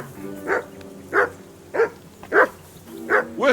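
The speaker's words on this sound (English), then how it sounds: "Get that mutt of yours to stop barking, will you?" A dog barks in the video game Kingdom Come: Deliverance II, six sharp barks at a steady pace about every half second, fairly close and clear over a faint low background.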